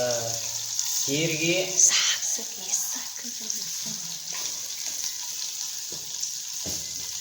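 Cumin and mustard seeds frying in hot oil for a chutney, a steady soft sizzle with a few brief crackles and stirring clinks, close up, with a voice talking over it near the start.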